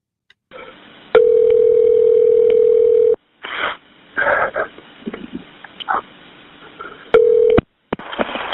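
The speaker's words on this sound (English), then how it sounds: "Here is the 911 phone call." Recorded 911 emergency telephone line, a steady electronic tone holding for about two seconds, then brief clicks and muffled line noise, with a short second tone burst near the end.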